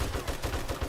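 Rapid bursts of gunfire from a zombie cop in 7 Days to Die, several quick close shots in a loud rattling sequence with no talking.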